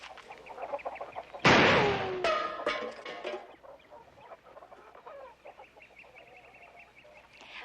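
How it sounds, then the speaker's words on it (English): Chickens cluck and squawk in a coop, with a sudden loud flurry of flapping and agitated calls early on that settles into scattered, softer clucks and chatter nearby. "We didn't know there was chickens in there."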